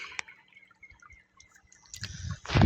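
Water from a pump drips in scattered, sparse drops, then surges into a louder splashing gush that builds toward the end.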